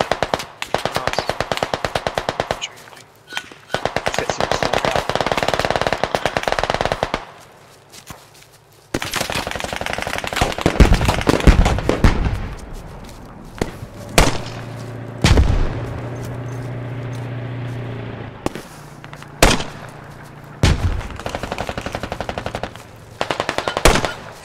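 Sustained bursts of machine gun fire in the video game Squad, loud rapid automatic rattling with long continuous strings, then scattered single shots and booming impacts, some distant.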